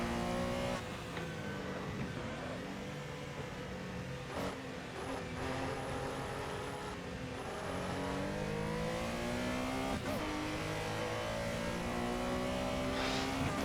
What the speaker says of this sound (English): Get it down into second and try and accelerate out of that corner.